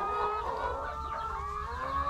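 Laying hens on a farm cluck and chatter continuously, a dense overlapping flock sound close by and fairly loud.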